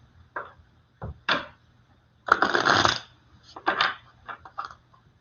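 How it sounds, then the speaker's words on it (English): Several short bursts of tarot cards being shuffled and riffled, crisp and close, separated by brief quiet pauses. "I'm shuffling the deck for you."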